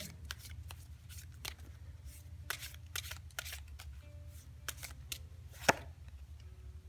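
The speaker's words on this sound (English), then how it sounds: "let's just pull out one extra card" Tarot cards are shuffled and drawn, making a series of quiet, crisp flicks and riffling snaps spaced irregularly, with one sharper slap near the end over a low background hum.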